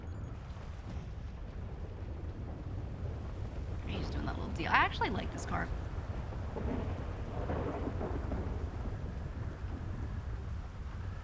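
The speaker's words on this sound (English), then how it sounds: "It's fucking rain." Steady rain in GTA V pours as a constant hiss with a low rumble beneath, while people talk over it throughout.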